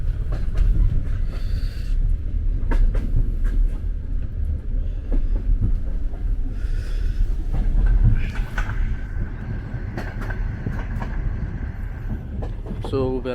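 Rumble and rattle of a Soviet-era sleeper train rolling along the rails, a steady loud low roar with clacks and metallic squeaks throughout and a brief voice in the carriage.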